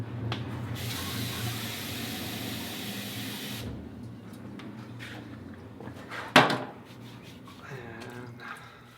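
Water hisses from a spray bottle or tap for a few seconds while a large two-part ceramic form is being worked, followed by a sharp clatter and faint handling noises on a quiet workbench.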